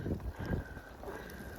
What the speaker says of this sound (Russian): Ураган. Ужас, что творится. Метель. Февральская метель.